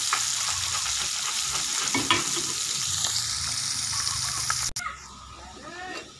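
White anchovies half-frying in hot oil for sambal teri genjer, a continuous close sizzle with stirring scrapes, one sharp knock near the end, then a softer, thinner sizzle.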